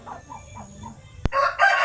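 Basilan native chickens on a poultry farm give a few soft clucks, then a sharp tap and a loud, close rooster crow that breaks off and resumes.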